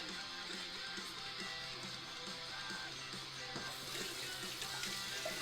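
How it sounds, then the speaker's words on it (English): A kitchen tap runs steadily as a knife is rinsed under it, making a continuous close hiss of flowing water with faint clinks in the sink. "Just rinse my knife off."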